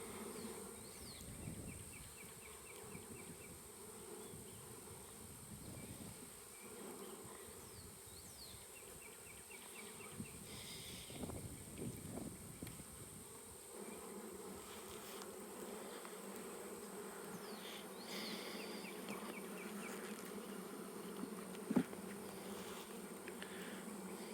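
Honeybees at work building comb inside a honey super of an opened hive, a dense, continuous buzzing hum up close with occasional louder passes of individual bees and faint handling noises.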